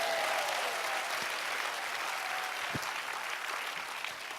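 Church congregation applauds to give glory to God, a broad, sustained wash of clapping from a large crowd, steady and fairly distant, with a faint tone and a few thumps underneath.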